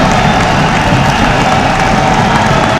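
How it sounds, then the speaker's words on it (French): A political gathering's audience bursts into loud, sustained applause and cheering, a dense close roar of clapping and shouts filling the whole moment without a break. "Un dernier paragraphe, presque inaudible sous les salves d'applaudissements de l'assistance"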